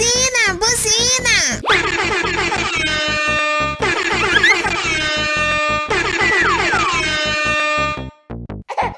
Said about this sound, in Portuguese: Buzina! Buzina!